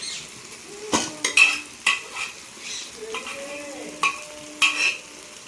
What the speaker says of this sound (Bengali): পেঁয়াজ রসুন সব ভাজা হয়ে গেলে সেদ্ধ করে রাখা ডালটার মধ্যে দিয়ে দেবো